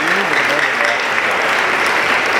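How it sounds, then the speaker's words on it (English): A conference audience at a large Muslim student gathering breaks into full, dense applause, a loud continuous wash of many hands clapping together, filling the room steadily throughout. "Let's give them a clap here."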